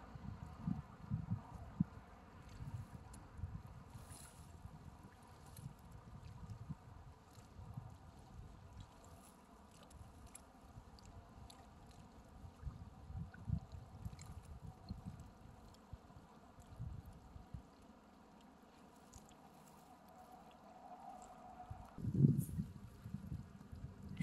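Water laps and moves softly near a person lying prone outdoors, a low, continuous rumble broken by occasional faint splashes and light wind buffeting, with one brief louder knock near the end.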